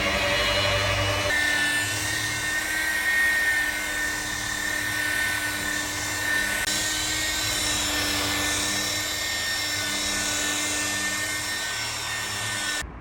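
A car polishing machine runs steadily while working thick cutting compound into a car's paint, a constant high whine with a low rumble underneath that lasts the whole stretch, fairly close and loud.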